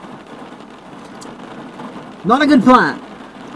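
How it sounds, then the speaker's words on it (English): Rain falls outside in a soft, continuous hiss that stays low in the background while a person speaks briefly over it. "It's raining, so you'll probably hear that."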